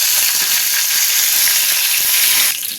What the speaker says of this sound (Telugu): ఇగండి తాలింపు ఇలా వేగింది కదా